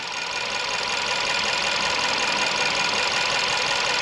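A steady, even car engine idle hums continuously at moderate volume, with a smooth high-pitched whirring and no speech, from an engine with rough running, jerking and power loss, warmed to 30-40 degrees.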